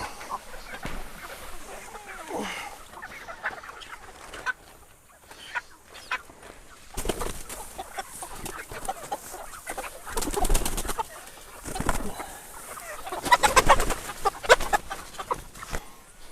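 Chickens are let out of poultry tractors and cluck and coo intermittently at close range, with faint rustling and handling noises and quiet spells between the bursts.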